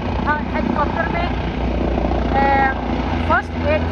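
An air ambulance helicopter slowly descends to land, its loud, continuous rotor and engine roar filling the scene, while someone talks over it and faint whistling or bird-like chirps come through.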